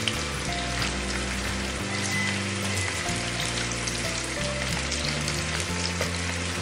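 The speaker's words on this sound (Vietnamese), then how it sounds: "vào tiếng xèo xèo rất là thơm và hấp dẫn." Baby carrots sizzling loudly while being stir-fried in a hot pan, a steady dense crackle and hiss with faint scraping of stirring underneath, no talking.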